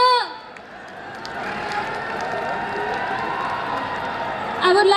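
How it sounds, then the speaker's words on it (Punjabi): Crowd noise rises in a steady, loud wash of cheering and clapping for student dancers at the GNDEC Anand Utsav 2023 college festival, sustained for several seconds with a voice cutting in at the start and end. "ਜ਼ੋਰਦਾਰ ਤਾੜੀ ਨਾਲ ਸਵਾਗਤ ਹੋ ਜਾਏ ਇੱਕ ਵਾਰ ਉਹਨਾਂ ਦਾ"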